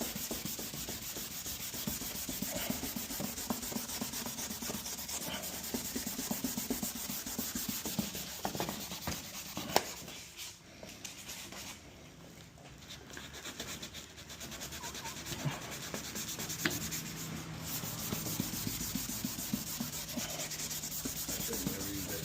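A 2018 Nissan Frontier headlight lens is sanded by hand with 320-grit sandpaper, giving a continuous close scratchy rubbing that eases off briefly midway before resuming.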